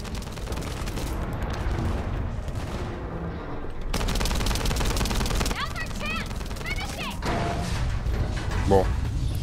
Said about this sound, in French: Pour l'instant, je vais surtout tirer dessus.